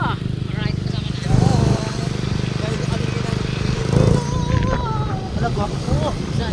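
A motorcycle engine droning steadily on a ride, the motor surging louder twice amid wind noise, with people talking over it throughout.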